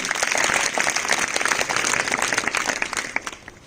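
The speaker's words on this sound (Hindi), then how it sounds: "इस बच्ची के लिए और जोरदार तालियां।" A crowd claps loudly and energetically, the applause sustained before tapering off toward the end.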